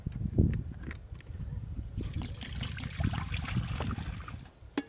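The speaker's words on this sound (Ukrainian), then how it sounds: "і наливаю чисту воду" Clean water poured into a cooking pot over an outdoor campfire while making borscht, a steady low splashing trickle with bubbling that continues for several seconds, fairly quiet and close.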